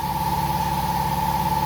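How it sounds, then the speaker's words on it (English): In a garage during work on a 1959 Ford wagon, an air compressor runs steadily with a constant droning hum and an even motor tone throughout. "Alright, so sorry about the compressor noise."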